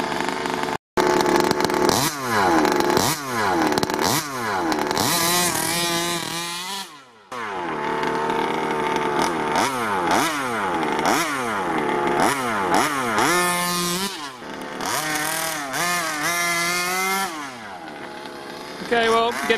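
A loud, close Rovan Q-Baja Shorty 29cc two-stroke engine on a 1/5-scale RC buggy runs on its first tank, blipping through repeated rising and falling revs with short pauses between bursts.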